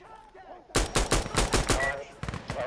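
Gunfire in Insurgency Sandstorm, a rapid string of sharp, loud shots with a brief pause and then a few more cracks, starting abruptly after a quiet moment with faint talk.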